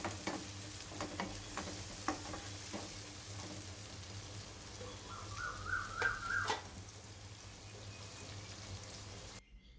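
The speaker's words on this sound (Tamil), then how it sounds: "தக்காளி 1 சேர்த்துருக்கேன், அதுவும் நல்லா வதக்கி விட்டுக்கலாம்" Chopped onion and tomato sauté in a pan for crab gravy, with a soft steady sizzle and intermittent stirring scrapes and taps, fairly faint and close.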